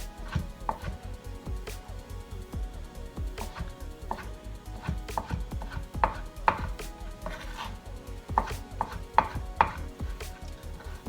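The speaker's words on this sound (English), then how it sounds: "now this we're just going to cut into little chunks" A knife chops mango into little chunks for a mango salsa, a steady run of close, crisp taps on a cutting board with a few louder thunks, no talking.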